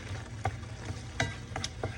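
Chopped broccoli cooks in a small skillet with a soft, steady sizzle, and a utensil scrapes and stirs the pan now and then. The sizzling is quiet and close, with no voices.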